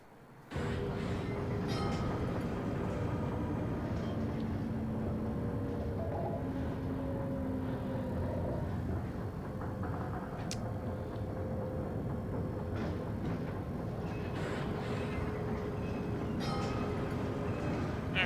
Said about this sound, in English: Seems like this tram could be a little better designed